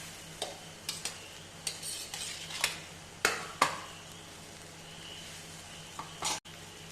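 Cut and cleaned nathal fish go into a bubbling masala curry in a pan, with a few soft splashes and spoon stirs over a quiet simmer, close and faint, with no talk.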